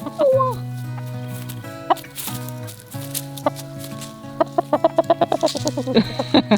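Chickens clucking up close, with short repeated clucks that quicken into a rapid staccato run near the end, loud and clear with no speech over it.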